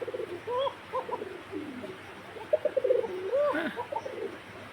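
Pigeons coo in soft, repeated rolling calls with a few quieter chirps, fairly close against a low background hum.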